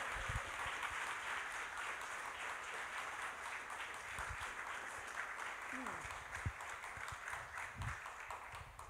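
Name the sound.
audience applause after musical performance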